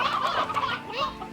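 Chickens clucking in the video game Slime Rancher, several birds close together in a brief busy burst with no talk.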